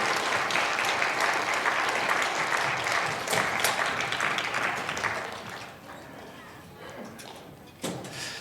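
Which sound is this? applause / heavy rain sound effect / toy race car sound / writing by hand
applause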